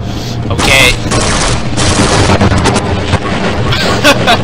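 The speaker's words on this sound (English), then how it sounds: "I love this grenade launcher!" Grenade launcher blasts and gunfire roar in the Half-Life video game, a dense, loud barrage of booms and rapid shots lasting throughout, with a voice briefly shouting over the din.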